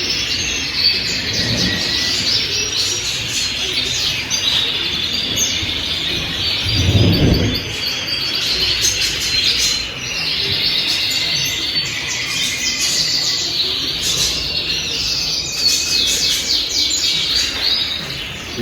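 Many small birds, finches among them, chirp and sing continuously at a pet store in a dense, busy chorus of high tweets, with a brief low thump partway through.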